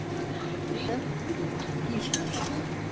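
A spoon scrapes and clinks against a cooking pot as lightly spiced soybean curry, made without chili powder, is poured into a dish, with faint kitchen background and low talk.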